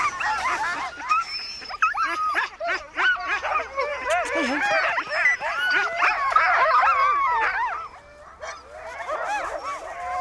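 A pack of Greenland sled dogs barking, yipping and whining together, excited high-pitched cries continuous and fairly near, with a person talking over the noise.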